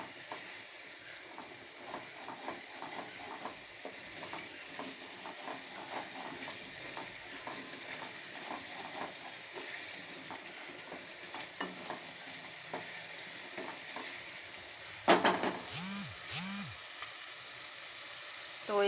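Masala frying in oil in a pan is stirred continuously, a soft sizzle under scraping strokes. A brief louder clatter of utensil on metal comes near the end.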